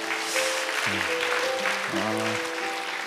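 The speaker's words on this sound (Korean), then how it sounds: "다시 한번 바이블 칼리지 간증해 주신 분들에게 감사의 박수 하겠습니다." A church congregation at a youth worship service applauds in thanks for Bible college testimonies. The steady, fairly loud applause carries on throughout, with sustained keyboard tones underneath.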